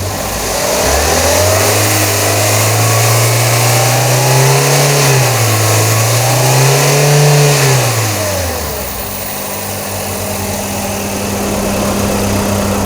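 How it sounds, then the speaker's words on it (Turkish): Freshly rebuilt car engine revved at its first start, rising and falling through two smooth throttle swells before settling back to a steady idle; close and loud, with no talk. "Ufaktan gaz da verelim."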